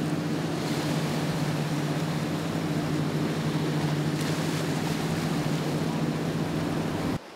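Steady low engine drone of boats cruising along a canal, a continuous rumble with wake wash noise, no voices, cutting off abruptly near the end.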